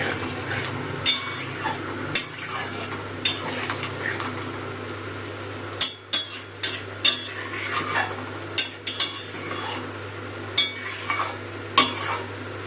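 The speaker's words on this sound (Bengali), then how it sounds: "জলের সাথে পোস্ত আলু সব ভালো করে মিশিয়ে নেব" Poppy seed paste and potatoes are stirred with hot water in a pan for aloo posto. A spoon scrapes and clinks against the pan again and again, with a soft simmer underneath.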